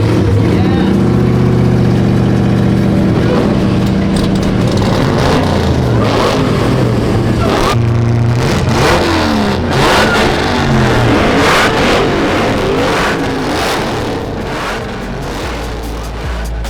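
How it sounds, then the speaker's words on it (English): A Hellcat-swapped Dodge Viper at a drag racing event fires up, its supercharged V8 engine idling and revving loudly up close, with a rough rumble and rising surges over crowd noise. "Here it sounds like this is an awful lot of Hellcat horsepower."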